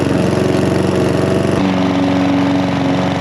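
Petrol Vitals Master Zp 51144td lawn mower engine running steadily and loud, its drone shifting pitch about halfway through as the load or throttle changes, with no voices.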